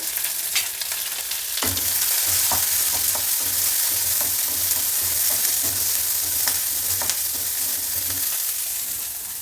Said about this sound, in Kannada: ಸಾಸಿವೆ ಹಾಕ್ತಾಯಿದ್ದೀನಿ ಒಂದು ಸಣ್ಣ ಈರುಳ್ಳಿನ ಸಣ್ಣದಾಗಿ ಹಚ್ಚಿಟ್ಕೊಂಡಿದ್ದೀನಿ ಕರಿಬೇವಿನ ಸೊಪ್ಪು